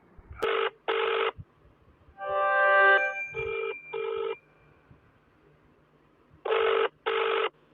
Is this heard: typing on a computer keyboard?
no